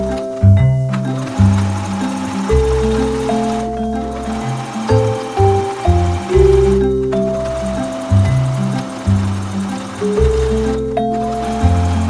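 A home sewing machine stitches elastic onto men's underwear in repeated loud, close bursts of rapid mechanical whirring, separated by short pauses as the fabric is repositioned.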